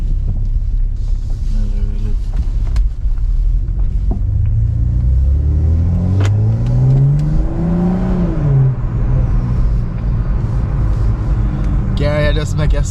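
A BMW M340i's turbocharged engine revs up in a rising, then falling drone over a low rumble. Someone talks over the engine note, and a rattly burst sounds near the end.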